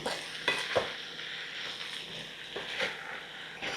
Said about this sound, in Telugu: కాస్ట్ ఐరన్ కడాయిలో దీన్ని సిమ్లో మగ్గనిస్తున్నాం